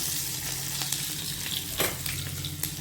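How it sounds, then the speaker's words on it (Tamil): Crushed garlic fries in hot oil with popped mustard seeds and urad dal, a loud continuous crackling sizzle with a few sharp spatter bursts, no voices. "இப்போது தட்டி வச்ச பூண்டை போட்டுக்கலாம்"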